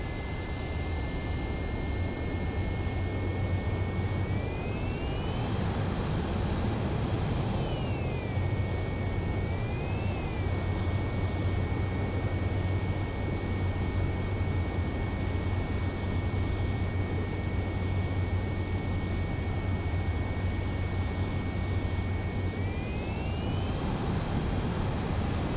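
Fighter jet landing in Ace Combat 7, a steady loud engine roar with a whining tone that rises and falls as throttle shifts, continuous and unbroken with no talk.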